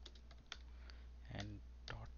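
Quiet clicks of a computer keyboard as code is typed, a few scattered keystrokes and short bursts, with brief speech partway through.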